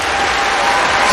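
Sustained applause from a badminton crowd at the 2007 Taipei Open after Taufik Hidayat's match, a dense, steady wash of clapping filling the whole moment with no voices rising above it.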